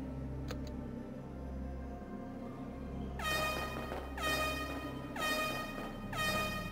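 Repeated blasts of an air horn sound effect played from a Discord soundboard, four loud bursts in a steady rhythm over a low background hum.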